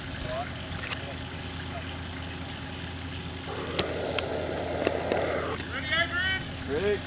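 A vehicle bogged in mud at the 2011 Mount Gambier radio foxhunting convention, its engine droning steadily before revving harder with a rough surge midway, while people nearby shout and talk over it.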